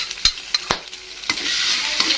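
A utensil scrapes and taps against a pan as ground meat, onion and instant spaghetti seasoning are stirred. A few sharp clacks sit over a rising, close sizzle.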